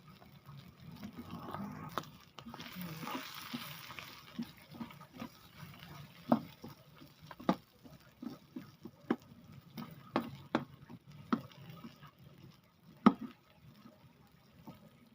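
Onion and garlic sautéing in rendered longganisa fat, a soft steady sizzle broken by a string of sharp stirring clinks and scrapes against the pan.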